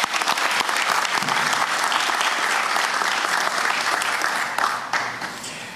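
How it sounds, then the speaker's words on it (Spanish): Sustained, dense audience applause rings out at a Panamanian presidential ceremony honoring an Olympic athlete back from the Paris Games, loud and steady throughout before tapering slightly at the end. "Aplauso."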